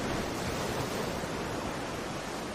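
Ocean surf washes in a continuous broadband rush, even and unbroken, with no distinct individual wave breaks and no voices.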